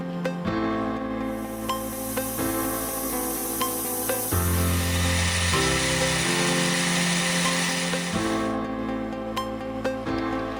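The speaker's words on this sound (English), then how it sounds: "I started out by forming the tapered profile, setting up the lathe to cut a 10-degree included angle." A metal lathe cuts a 10-degree tapered profile on stock held in a three-jaw chuck, giving a continuous mechanical whine and hum that shifts pitch in steps as the cut progresses, with occasional light clicks.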